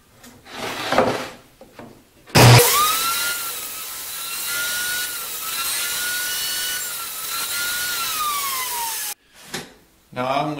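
A saw cuts through wood for a fishing pole rack, producing a loud, sustained whine and rasp that lasts several seconds. Brief spoken words come just before and after the cut.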